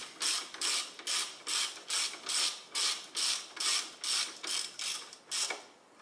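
Ratchet wrench clicking in quick repeated bursts close by, roughly a dozen even pulls, while ball joint bolts on a Toyota Corolla front wheel hub are tightened. No one speaks.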